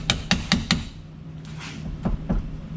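A hammer taps on a Can-Am power steering housing: four quick metallic knocks in a tight burst, a short pause, then two more taps, close and fairly loud with no talking.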